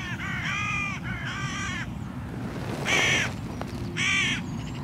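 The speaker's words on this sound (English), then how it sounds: "that's probably why there's more hooded crows in this ground than anywhere else I shoot." Hooded crows caw loudly in open ground near forestry, giving several harsh calls in short bursts, some paired and some single, over a steady low rumble of wind.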